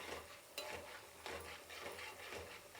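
Urad dal and seeds frying in hot oil for a tempering, a steady close sizzle with occasional stirring scrapes and light clinks of a spoon against the pan.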